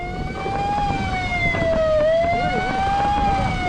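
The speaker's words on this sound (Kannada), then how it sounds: "ಸೈರನ್ ಹಾಕೋಣ" A loud wailing siren sweeps slowly up and down in pitch, close by and continuous, with a low rumble of traffic beneath, near Malpe Beach.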